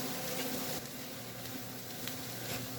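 Chopped onions sizzle in bacon fat in a large stock pot, cooking down for potato salad. The soft, even frying hiss goes on alone, with no voices and only faint crackles.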